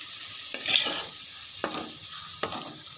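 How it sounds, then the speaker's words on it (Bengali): Potatoes being fried and stirred in a pan, with a steady sizzle broken by three sharp scraping stirs, close and alone. "তো হালকা আলুটা ভাজবো"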